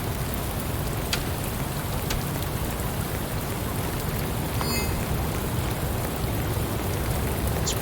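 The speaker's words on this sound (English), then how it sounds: "A lot of rain in these here parts." Steady rain falls in the nighttime city streets of the detective game Shadows of Doubt, a continuous even hiss of drops with no voices over it.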